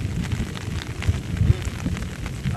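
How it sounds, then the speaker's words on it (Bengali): Heavy rain pours over open fields in a dense, steady wash of noise, with a couple of slightly louder gusts or thuds and no one speaking. "আর দেখতেই পাচ্ছ কি পরিমাণ বৃষ্টি হচ্ছে"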